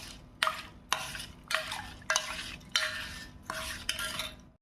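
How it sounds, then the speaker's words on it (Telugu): Spoon stirring a cup of jaggery in a metal pan while making instant junnu, with seven scraping strokes in a steady rhythm, each a short, bright metallic scrape close by with no talk. "ఒక కప్పు బెల్లం వేసుకున్నాను. ఒకసారి తిప్పుకుందాం."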